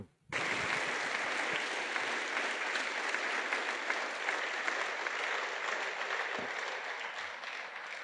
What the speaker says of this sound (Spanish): Denle palmas a Cristo.